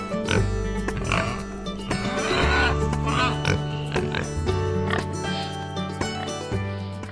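Feral hogs grunting and oinking close by, a busy chorus of overlapping snorts and squeals that continues throughout with no break.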